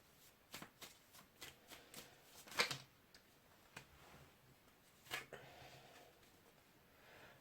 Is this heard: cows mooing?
no